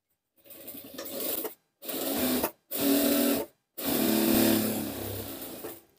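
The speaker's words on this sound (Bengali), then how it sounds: "তো ফিতাটা আমরা কি করব, একটি ভাঁজ দিয়ে আমরা সিলি করে নিব।" A sewing machine stitches a folded fabric strap in four bursts of rapid, even whirring, separated by brief silences. The last run is the longest, and no one speaks.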